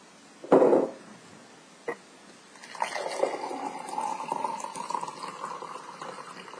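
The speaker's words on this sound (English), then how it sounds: "And then pour your juice in." Beetroot juice is poured into a glass, a steady trickling and filling sound that swells and continues for several seconds, preceded by a brief sharp knock and a faint tap, with no talk.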